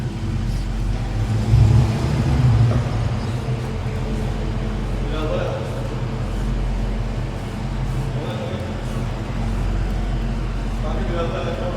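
Low, steady engine rumble of a Dodge Challenger Hellcat idling and creeping slowly into a parking spot, a brief louder burst of throttle early on, with someone talking over the car throughout.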